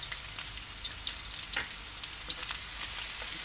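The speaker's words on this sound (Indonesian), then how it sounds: "Kita masukkan bawang putih, bawang merahnya guys ya. Aduh panas guys minyaknya guys." Garlic and shallots frying in hot oil, a steady close sizzle with crackling pops and occasional stirring scrapes, no talk.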